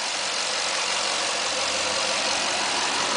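A 2007 Toyota Tundra CrewMax with the iForce 4.7 V8 idles, a steady, loud, even hum with no change in revs and no voices.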